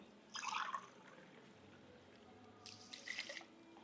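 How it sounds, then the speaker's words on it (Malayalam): Water is poured over rice in a pot for a quick biryani, coming as two short splashing bursts separated by near silence, faint and close. "മൂന്ന് ഗ്ലാസ് വെള്ളം ഒഴിക്കണം"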